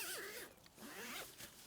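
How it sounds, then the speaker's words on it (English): The two-way zipper on a budget four-season tent is pulled open in one long, rasping run that wavers in pitch, close up and clear, with no talking. "let's open it up. You've the two-way zip here"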